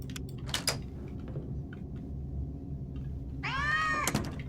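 A cat meows twice in an animatronics horror video game, a short cry early and a longer, drawn-out meow near the end, over low ambient game drone.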